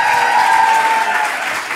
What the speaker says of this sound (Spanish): Aplausos para los muchachos.